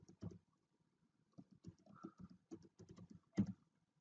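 Someone types on a computer keyboard, with quiet, close clicks coming in short irregular bursts separated by pauses.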